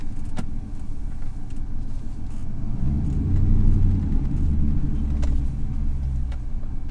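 A Camaro or Firebird LS1 V8 engine with a T56 manual gearbox rumbles low and heavy as the car drives, the deep growl swelling midway, heard from inside the car with a few faint clicks.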